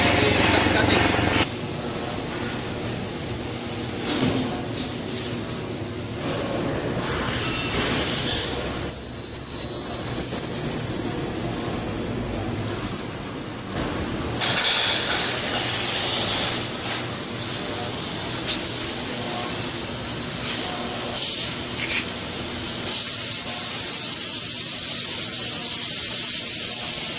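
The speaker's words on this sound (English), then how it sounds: "I will cut the angle bar 1/4 by 1. So I will use the gas cutting." An oxy-fuel gas cutting torch slices through a quarter-by-one-inch steel angle bar with a loud roaring hiss that swells and drops, joined by brief high whistling tones and some talk.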